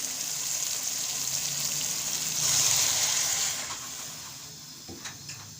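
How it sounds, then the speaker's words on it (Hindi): Water is poured into a wok holding pakora curry base, giving a steady hissing gush that swells in the middle, then fades into soft sizzling and a few light clinks near the end. "अब हम जो है इसमें शामिल कर देंगे पानी।"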